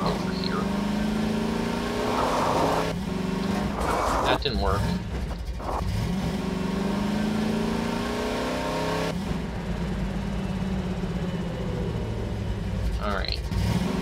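A car engine in a Half-Life 2: Episode Two mod revs and surges while the car drives up a ramp. It runs steadily throughout with several sharp accelerations, and someone speaks briefly over the motor.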